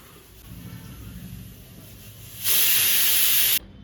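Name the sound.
pressure cooker hissing steam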